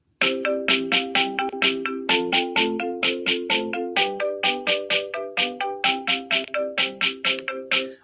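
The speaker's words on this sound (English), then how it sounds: "I decided that I thought that the marimba was the best, most balanced sound" A bright marimba melody taps out a quick, steady stream of struck notes over sustained low bass harmony, clear and up close, with no voices.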